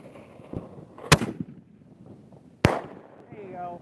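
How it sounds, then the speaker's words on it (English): Small firework mortars burst outdoors at night, two sharp loud cracks about one and a half seconds apart, plus a smaller pop, with faint crackle and a voice briefly afterward. "Light one more. A little mortar."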